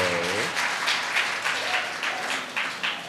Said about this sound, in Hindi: कम से कम ताली तो बजा लो